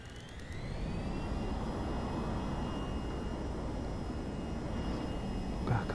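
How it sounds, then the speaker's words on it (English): A jet aircraft spools up for a vertical takeoff from a ship at night in the flight simulator VTOL VR, a steady, loud broadband engine roar with rising whine tones, heard alone. "1-3 tower cleared for vertical takeoff."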